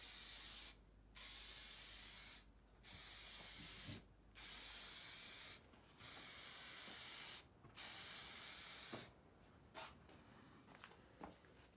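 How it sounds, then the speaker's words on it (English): Spray can paint applied to an engine rocker cover in six long, even bursts of loud hissing, each roughly a second or more, separated by short pauses, then faint handling noises. "make sure you shake the can well and make sure the paint isn't too dry"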